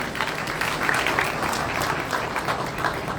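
Sustained audience applause fills a congress opening ceremony hall, dense and steady throughout at moderate distance, with no talk over it.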